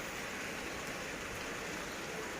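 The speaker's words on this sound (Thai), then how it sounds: "ฝนตกมาสะ" Rain falling steadily on a rural home on a rainy day, a soft, even hiss with no breaks, fairly quiet and heard alone.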